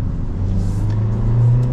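Steady engine hum and road rumble fill the cabin of a 2025 Honda Civic Sport sedan as it gathers speed, with the drone rising slightly toward the end.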